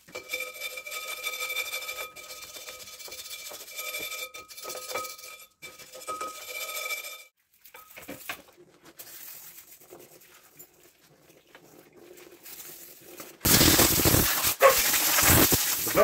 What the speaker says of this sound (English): Get some brake cleaner on that and a wire brush,